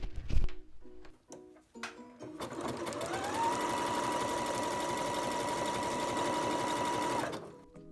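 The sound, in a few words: sewing machine stitching a neckband with a guide foot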